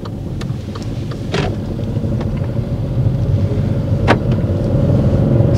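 Car driving along during a driving lesson: steady low engine and road rumble that swells slightly louder over time, with a couple of brief clicks, no talking.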